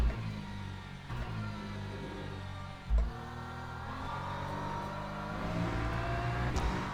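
A race car engine in a racing video game revs in second gear, a steady close drone that rises and falls, with a brief bump near the middle and higher revving toward the end.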